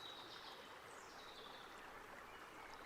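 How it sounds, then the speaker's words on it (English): Fresh spring water trickles steadily from stone in a quiet outdoor spot, a continuous soft watery wash with faint bird chirps high above it. "Fresh water straight from the stone."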